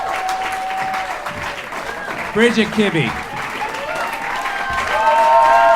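Audience at a classical beer jam applauds the musicians; clapping and crowd noise run throughout under a voice announcing names, swelling louder toward the end.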